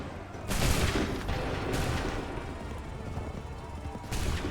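Massed musket volleys crackle in Assassin's Creed III, a broad burst of gunfire near the start followed by further rolling volleys and a final blast near the end, loud and dense over a continuous battlefield din.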